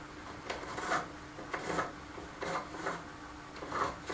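Pencil tracing around a radius on reclaimed timber for a handmade kitchen, soft quiet scratching strokes in short bursts, about five rubbing passes with brief pauses between them.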